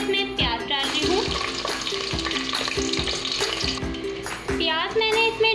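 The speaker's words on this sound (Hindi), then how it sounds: "ऑयल मैंने डाल दिया है, ये गर्म हो चुका है। अब मैं इसमें प्याज डाल रही हूँ।" Chopped onions sizzle and fry in hot oil, a loud continuous crackling hiss with stirring clatter, while someone talks over the cooking for chana chaat.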